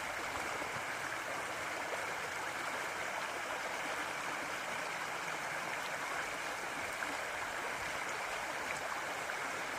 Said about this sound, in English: Oh, the sound of water, the sensations.